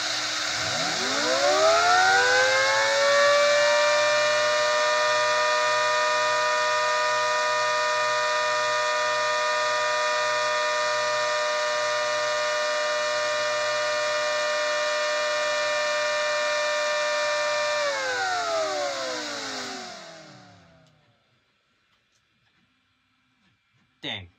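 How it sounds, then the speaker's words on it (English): A motorized siren winds up to a loud, steady wail, holds for several seconds, then winds down and stops, followed by a faint click. "I'll test the sirens before recording them"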